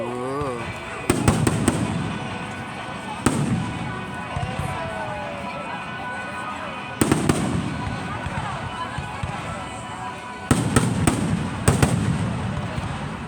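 Fireworks show bursting over a front yard near the beach, with repeated sharp booms and crackling salvos in clusters, loud and close, amid ongoing background voices.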